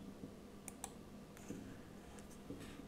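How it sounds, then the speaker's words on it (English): A computer mouse gives a few sharp, isolated clicks at close range over a steady low hum, with no talking. "Now click on next."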